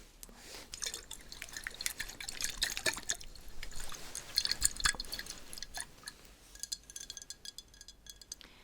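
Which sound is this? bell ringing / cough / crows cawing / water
water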